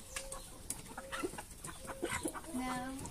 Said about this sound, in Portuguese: O galo é tranquilo, esse galo.